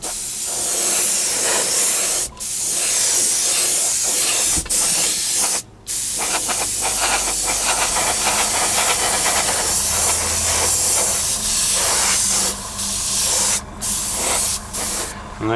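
Vallejo acrylic polyurethane surface primer sprayed through an airbrush in a loud, continuous hiss lasting many seconds, with only brief pauses in the spray.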